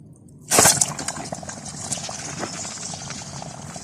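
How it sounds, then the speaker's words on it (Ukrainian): A sudden splash as red-hot Bosch starter motor parts hit water, followed by continuous hissing and bubbling that slowly settles. "Зараз скидаю це все в воду"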